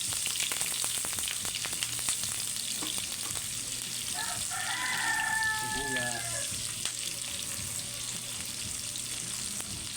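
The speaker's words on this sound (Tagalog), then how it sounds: "magkisa na tayo ng sibuyas" Onions sauté in cooking oil for pork humba, giving a steady, close frying sizzle that runs through the whole clip, with a faint tonal call rising briefly midway.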